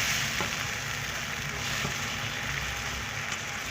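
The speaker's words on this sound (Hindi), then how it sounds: "ये तमाम चीज़ें डाल के हम चिकन को थोड़ी देर पका लेते हैं।" Chicken fries in a pan with soy sauce, giving a continuous dense sizzle with faint stirring scrapes, close and steady throughout, with no speech.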